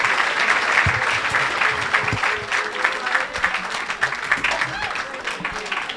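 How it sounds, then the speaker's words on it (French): An audience at a church miracle service applauds loudly and steadily, a dense wash of clapping filling the space for several seconds, with voices shouting over it. "Acclame."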